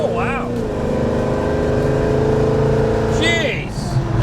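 A 1968 Chevrolet El Camino engine accelerating on a test drive, a steady rising drone heard close from inside the car, with people talking over it.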